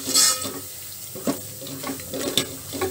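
Rasam spice powder roasting in a pan for Andhra-style pepper tamarind rasam, a soft close sizzle broken by a few scraping stirs and clinks.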